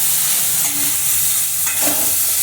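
Indian-style pasta being stirred in a hot pan, a dense continuous sizzle with a few soft scraping strokes of the spoon, close and fairly loud, no talking.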